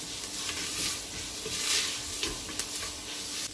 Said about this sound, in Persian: یه تفت کوچولو میدیم که یکم بوی خامیش گرفته بشه.